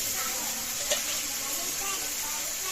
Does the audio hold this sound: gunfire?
no